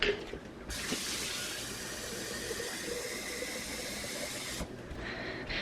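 Water runs from a kitchen tap for about four seconds, filling a pot with roughly two cups for coffee. The steady, close rushing hiss starts abruptly and cuts off sharply, with no talking.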